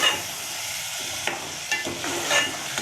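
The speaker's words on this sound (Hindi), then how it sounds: "टमाटरों को थोड़ा भून लेंगे ताकि टमाटर हमारे गल जाएं।" Tomatoes fry in a pan for a palak methi aloo dish, a steady close sizzle with a few soft stirring scrapes and no talking.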